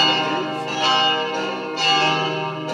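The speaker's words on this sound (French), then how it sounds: "Vous pouvez mettre une quatrième cloche." Church bells ringing together with a fourth bell added, a dense sustained metallic chime with layered overtones swelling and fading in repeated strikes, loud and close.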